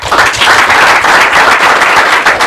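Loud, dense audience applause fills a live talk show event, a steady wash of many hands clapping without letup for the whole stretch, with no voices over it.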